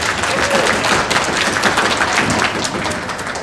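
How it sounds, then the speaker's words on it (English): Steady, dense applause from a large crowd, many hands clapping continuously at an even volume throughout. "Please give a round of applause."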